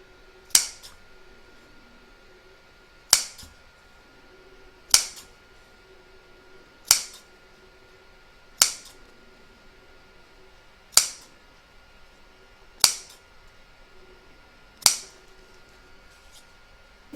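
Scissors snip notches into the corners of a fabric coaster, producing eight crisp, isolated cuts spaced about two seconds apart, close and clear against near silence.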